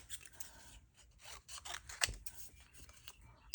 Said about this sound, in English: So I'm going to fussy cut this out.